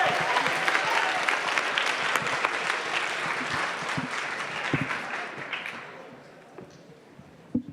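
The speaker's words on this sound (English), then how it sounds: "Let's give YESPhilly an Aspen Challenge round of applause." A dense round of applause from a high school audience rings out strongly, then tapers off and fades to near quiet, with a few stray claps in the closing seconds.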